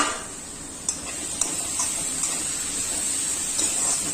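Vegetable frying slowly in a pan over low heat for a Chhattisgarhi sabzi, a soft steady sizzle with a few light stirring scrapes and clinks, close and continuous, no talk.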